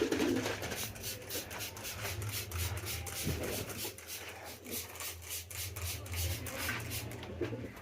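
Pigeons let out in the morning coo in soft, low, repeated phrases close by, under a rustling, breezy outdoor background with faint wing and movement noises.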